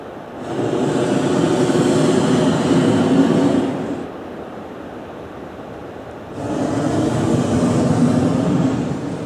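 Two long, loud roaring blasts of a hot air balloon's gas burner, each lasting several seconds, separated by a quieter pause.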